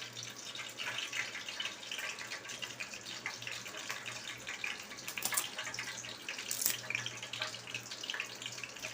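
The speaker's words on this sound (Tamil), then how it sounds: "இப்போ இந்த பட்டை சோம்பு அதை போட்டு தாளிச்சிக்குவோம்." Cinnamon bark and fennel seeds hiss in heated oil in a pan for carrot gravy, a steady close, fizzing sizzle that holds evenly throughout.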